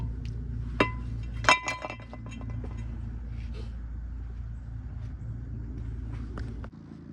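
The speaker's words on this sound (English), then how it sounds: "Now you could take off the old rotor and then you could put on the new rotor." Old brake rotor taken off and a new one fitted on a Toyota Sienna front axle: a few sharp metallic clinks and knocks near the start, then quieter shuffling handling sounds over a steady low background hum.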